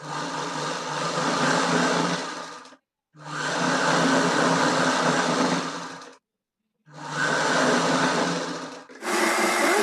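Sewing machine running while stitching the lining of a Punjabi dress top, loud steady motor whir in three long bursts separated by short pauses, with a fourth run starting at the end; no talking.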